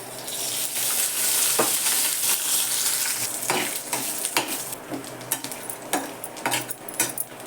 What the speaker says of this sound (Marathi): मी याआधी कांदा आणि खोबरं भाजून घेते